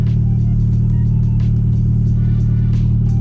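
Steady low engine rumble from a K-swapped Toyota MR2 pulling away, a loud, close, continuous droning hum heard from inside the car with no talk over it.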